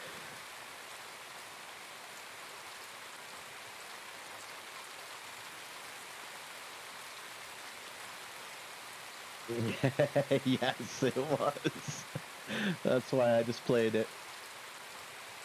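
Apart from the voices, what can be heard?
rain falling in a video game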